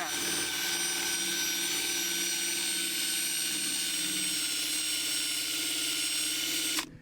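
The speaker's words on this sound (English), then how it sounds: "basically you just put it on the end of the drill" A high, steady whine of a drill spinning a decal eraser wheel runs loud and continuous, with a grinding buzz underneath, then cuts off abruptly near the end.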